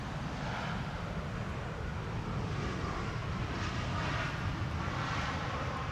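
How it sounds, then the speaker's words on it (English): A KLM Airbus A321neo landing on Amsterdam's Polderbaan runway, a steady faint engine roar and rushing noise in windy conditions, heard at a distance with no talk. "Parallel A321 Neos from KLM."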